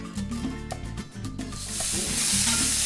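Noodles hit a smoking hot wok, a close hiss and crackle of frying that builds into a louder, steady sizzle over a few seconds, with a low humming tone underneath and no talking.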